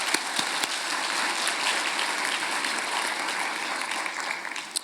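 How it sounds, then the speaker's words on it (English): Steady, dense applause from a forum audience thanking the event sponsors, an even wash of many hands clapping at moderate volume throughout with a few sharper claps standing out. "Let's give them a round of applause for their support of today's forum."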